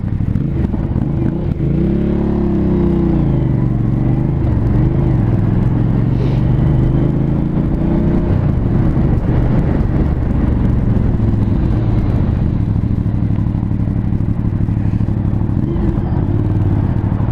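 An Aprilia Shiver 900 motorcycle engine rumbles close by with a rough, throaty, supermoto-like idle and small revs that rise and fall, running steadily the whole time.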